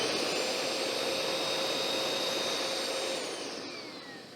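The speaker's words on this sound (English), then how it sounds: "it's literally a lot like a little vacuum cleaner that works opposite to a vacuum cleaner" A loud, steady whooshing roar of an air blower running close by, tapering off slightly toward the end.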